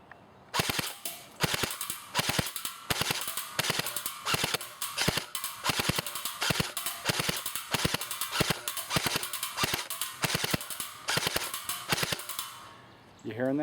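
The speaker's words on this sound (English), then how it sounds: "now we're going to shoot a little full auto on that" A JG M4S airsoft AEG rattles off rapid full-auto bursts, crisp mechanical cracks in quick succession, loud and close, with brief gaps between strings of shots.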